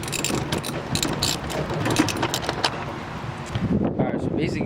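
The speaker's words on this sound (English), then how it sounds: "Let me tighten it up real quick" Ratchet wrench tightening a side panel on a drift car, brisk clicking bursts up close, mixed with some metallic handling noise.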